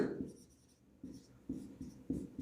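Marker or chalk writing on a board during a trigonometry lesson: short scratchy strokes in irregular bursts, close and fairly quiet, with no talk over them.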